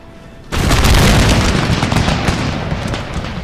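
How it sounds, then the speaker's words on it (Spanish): A sudden loud volley of musket fire in the video game Empire: Total War erupts after a brief quiet moment, then rumbles and crackles on as the shots blend together. "los atronadores mosquetes todos unidos"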